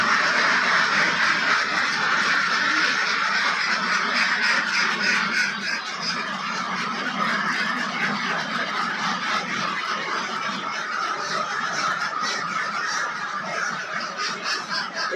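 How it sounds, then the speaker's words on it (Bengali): Ducks on a duck farm with a flock of about 450 birds keep up a dense, continuous chorus of overlapping quacks and honks, close and loud for the whole stretch. "হাঁসগুলো আগে ছেড়ে দাও"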